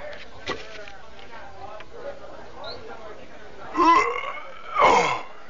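A man's loud, guttural burp, two strong bursts near the end, following quieter throaty sounds and voice.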